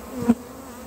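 A honey bee buzzes briefly and close by at an apiary, a single short drone rising and fading within a second.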